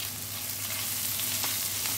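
Chopped onions frying in a pan for a Bengali doi bhola kaliya fish curry, giving a steady close sizzle with faint crackles and no voices.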